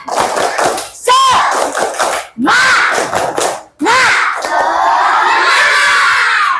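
Indonesian schoolchildren chanting and doing a rhythmic spirit clap in class, loud group shouts in bursts punctuated by sharp claps, a crowd of young voices close by with a teacher's voice leading.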